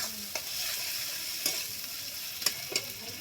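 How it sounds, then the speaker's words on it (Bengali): Cumin-based spice paste for a chicken curry fries in a pan with a continuous close sizzle, punctuated by a few sharp scrapes of stirring, without any talking. "দিয়ে ভালো করে কষিয়ে নেব মশলাটা"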